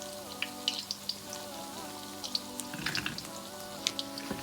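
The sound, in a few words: akara bean balls frying in oil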